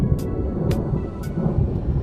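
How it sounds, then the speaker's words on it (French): A thunderstorm sound effect standing in for storms on Jupiter: deep, continuous rumbling thunder with three sharp crackling bursts spaced evenly across it. "Et puis, il y aurait les orages."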